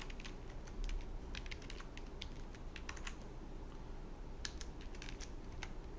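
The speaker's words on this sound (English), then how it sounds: "Let me type it in." Rapid, soft clicks of typing code on a computer keyboard, in irregular bursts with brief pauses, fairly close but quiet over a low hum, no talking.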